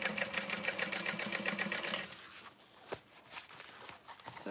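Sewing machine basting exterior fabric layers and lining of a small bowler bag in place, a steady rapid stitching rattle for about two seconds, then stopping, followed by quieter handling clicks and rustles.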